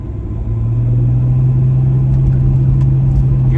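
Steady low engine drone and road rumble from inside a 2001 BMW E46 330D diesel cruising at night, a constant deep hum with no speech.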